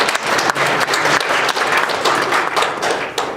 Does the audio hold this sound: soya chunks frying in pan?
no